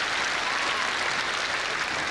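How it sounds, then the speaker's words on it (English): Steady, dense applause from a school audience at a Showquest 2019 performance event, filling the whole stretch evenly with no talk over it. "So I think that's massive and deserves a round of applause,"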